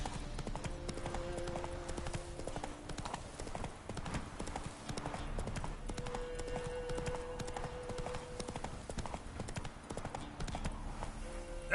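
Roach, Geralt's horse in The Witcher 3: Wild Hunt, trotting with a steady, continuous clip-clop of hooves at close range over a faint game background.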